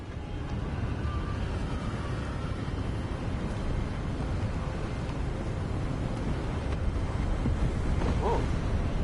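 Steady wind gusts across open seaside terrain in the video game Hogwarts Legacy, a constant full-bodied rush with a low rumble of surf beneath it, loud and unbroken throughout.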